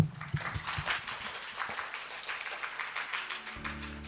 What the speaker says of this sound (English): an applause for all the panelists